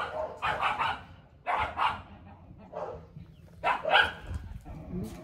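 Two dogs barking outdoors at a home in Texas, in several clusters of rapid barks separated by short pauses, fairly close and moderately loud, over a low background rumble.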